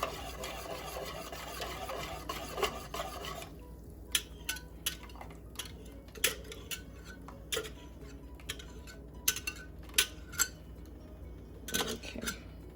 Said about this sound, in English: You have to constantly keep whisking.